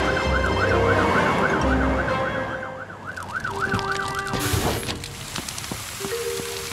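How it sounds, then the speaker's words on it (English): A cartoon fire truck's siren in Gecko's Garage wails in a loud, steady rising-and-falling cycle, close by over a busy background of loudly revving racing vehicles and rain-like noise, with a second siren tone joining and shifting partway through. "it's time we fitted you with a louder siren"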